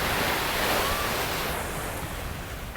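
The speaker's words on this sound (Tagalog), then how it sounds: "Lakas ng alon ng dagat natin." Strong storm-driven sea waves at Manila Bay crash and churn in a steady, loud roar of surf that swells and slowly eases, with no voices.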